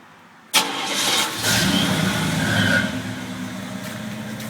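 Chevrolet C10 truck with a Flowmaster 70 series big block muffler, engine catching at once and settling into a loud, rumbling exhaust with a brief rev, close by and alone.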